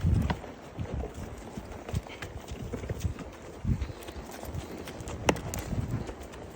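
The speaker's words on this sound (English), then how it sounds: "It's a rarity to get these two horses to walk side by side." Two horses walking side by side up a trail on a sunny April day, their hooves clip-clopping in a steady, uneven rhythm on the ground, moderately close, with light outdoor ambience and no talk.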